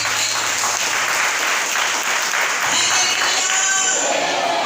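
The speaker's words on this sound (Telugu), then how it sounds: "చప్పట్లు కొట్టి" Congregation clapping together in the Bethel prayer hall at Velanka during Sunday worship, a loud, dense, steady burst of applause that fills the whole stretch without letting up.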